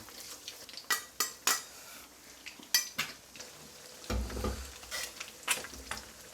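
Fried eggs being flipped in a pan, with a series of sharp metal spatula clinks and scrapes, then a brief burst of sizzling as they land, close and moderately loud with no talking.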